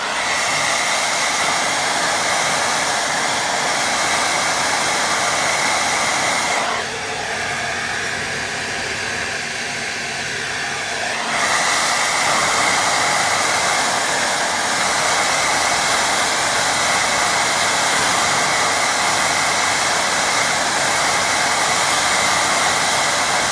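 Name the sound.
hair dryer drying a watercolour painting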